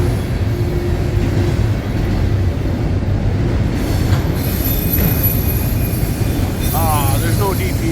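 A loaded freight train with many auto racks rolls past near the Durand wyes, a loud continuous rumble of wheels and cars with metallic squealing and faint clacking, close by throughout.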